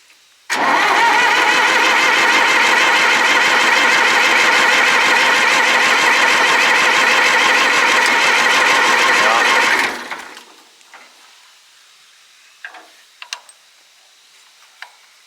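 An old, abandoned farm tractor engine cranks and fires, then runs loud and steady for about nine seconds before cutting off, followed by a few faint clicks and knocks in near silence.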